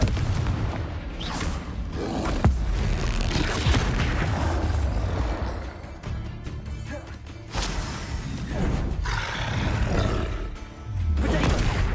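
A Confringo fire spell blasts again and again in the Hogwarts Legacy video game: loud, dense booming explosions with a roaring rumble that fills the whole stretch.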